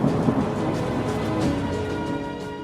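A violent thunderstorm rumbles with deep rolling thunder over heavy, steady rain pattering on surfaces, a dense continuous wash of sound throughout.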